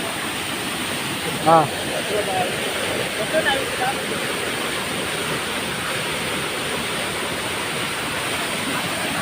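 A waterfall at a picnic spot in Manja, Assam gives a constant broadband rush from start to finish. Brief voices and a short shout rise over the roar.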